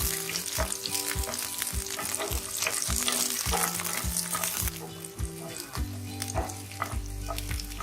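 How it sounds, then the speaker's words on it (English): Garlic sizzles steadily in 3 to 4 tablespoons of hot olive oil over a medium flame, a close, continuous frying crackle with a persistent tonal hum running underneath and no voices. "Now add the garlic and roast it. Roast it on a medium flame."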